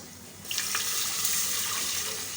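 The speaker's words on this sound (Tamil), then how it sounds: "இப்போ இதில் வந்து நம்ம தண்ணி சேர்க்கலாம் அஞ்சு டம்ளர் தண்ணி சேர்த்துக்கிறோம்" Five tumblers of water poured in a steady stream into a pot of raw rice and toor dal, starting abruptly and running continuously with a bright splashing rush, no talking.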